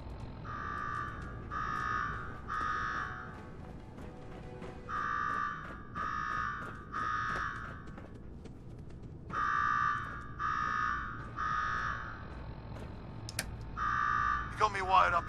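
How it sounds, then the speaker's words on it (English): Alarm ringing in the video game Fallout 4, a repeating electronic buzzer in bursts of three even pulses, moderately loud over a low background hum with faint game noises. "Now go shut off that damn alarm."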